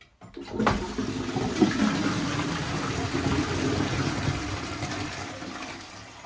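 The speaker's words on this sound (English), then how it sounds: "When you flush it, it doesn't go down right." A toilet flushes and drains poorly, a loud sustained rush of water swirling in the bowl for several seconds after a short silence, with no voices over it.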